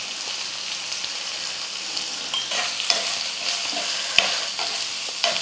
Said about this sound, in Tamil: முருங்கைக்காய் வந்து 1 நிமிஷத்துக்கு வந்து எண்ணெயில் வந்து நல்லா வதங்கட்டும்